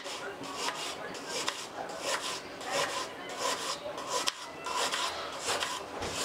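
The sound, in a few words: chopping a dry onion into cubes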